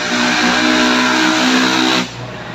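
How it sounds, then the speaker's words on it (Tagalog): Steady, loud roadside traffic rushes past on a street near a church in Santa Clara while a car radiator is being fitted with a hose, broadband and continuous until it drops off abruptly near the end. "At maingay lang dito dahil sa tabi lang ng kalsada."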